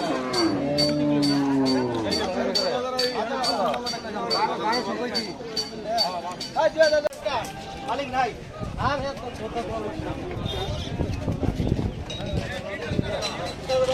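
Cattle low repeatedly at Hazratpur cattle market, the calls drawn out and overlapping, some near and some farther off, with a crowd chattering and bargaining throughout and a few clinks.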